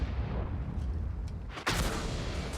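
Artillery fire in World of Tanks lands as a sudden loud boom that cuts through a continuous rumbling engine and battle din, preceded by fainter distant thumps.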